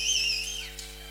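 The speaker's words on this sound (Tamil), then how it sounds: "இந்த விசில் அடிக்கிறாங்க, அவன் ஜல்லிக்கட்டுக்கு வந்தவங்க" Whistling from the crowd at a village drama performance of Valli Thirumanam, a shrill wavering whistle rising and falling for about half a second, then fainter trailing whistles over a steady hum.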